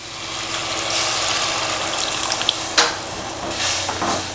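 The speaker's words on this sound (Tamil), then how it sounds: "ஒரு சின்ன துண்டு புளி எடுத்து புளி தண்ணி எடுத்துருக்கேன், அதை சேர்த்துக்கலாம்." Tamarind water poured into Srirangam vatha kuzhambu frying in a pan, a broad sizzling hiss swelling as the liquid hits, with a brief clink partway through.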